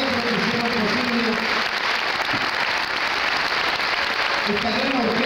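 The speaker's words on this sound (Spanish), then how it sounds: "le vamos a dar un tremendo, tremendo aplauso a los jóvenes, a los niños, a todos los maestros" Dense, steady applause from a concert audience honoring a youth orchestra, a loud continuous wash of clapping over the whole stretch, with a voice faintly surfacing near the start and end.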